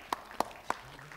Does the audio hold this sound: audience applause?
yes